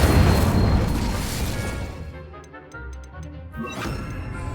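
Incendio fire spell from Hogwarts Legacy launching with a loud burst and crackling whoosh, the roar fading over a couple of seconds, then a brief ticking pattern and a second flare rising near the end.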